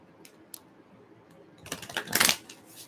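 Tarot cards riffled and shuffled by hand for a spiritual reading, a few soft taps early on, then a dense papery flurry of shuffling that builds and peaks near the end, close and fairly quiet.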